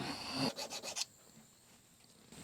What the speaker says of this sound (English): Let me get a file to deburr that with.